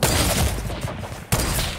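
Sniper rifle gunfire in a Fortnite sniper-only match, a dense burst of sharp shots and booms that cuts out briefly, then resumes loudly near the end.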